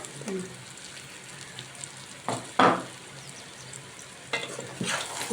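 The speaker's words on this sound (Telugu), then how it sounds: "బాగా కలుపుతాం" Cooked pumpkin pieces and about 200 grams of jaggery are stirred in a pan over a soft sizzle, with several bursts of scraping and mixing strokes close by.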